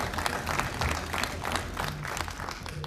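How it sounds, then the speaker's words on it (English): Steady applause from a seminar audience of parliament members, many hands clapping continuously at a brisk, even pace, fairly close and filling the room with no talk over it. "when you clap like this, you are motivating them"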